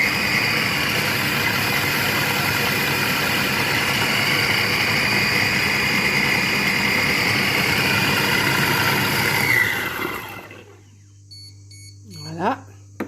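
A Compact Cook Pro multicooker mixing mirabelle plum jam: a steady, loud whirring motor drone that runs continuously for several seconds, then cuts off abruptly, leaving brief beeps and quieter clatter.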